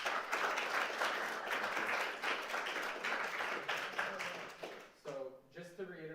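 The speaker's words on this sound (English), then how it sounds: "If we could just give them one more round of applause." An audience applauds steadily for about five seconds, a dense wash of clapping that fades out into a brief murmur of voices.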